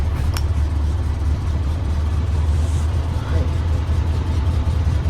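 Air-cooled flat-four engine of a patina VW Beetle running steadily at idle, a continuous low rumble close by with no voices.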